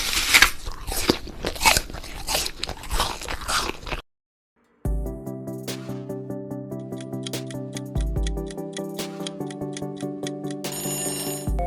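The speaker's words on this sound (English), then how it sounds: "It's the sound of someone eating an apple." An apple being bitten into and chewed, a few crisp crunching bites followed by a steady wet chewing rhythm, close and clear, with no voices.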